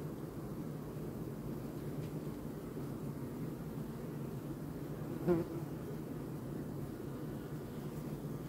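Honeybees fan their wings at the hive entrance in July, a steady low droning hum that holds evenly throughout, with one brief faint knock partway through.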